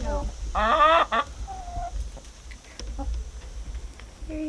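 Chickens cluck on a lavender farm, a busy burst of close clucking followed by scattered softer calls, with people talking nearby.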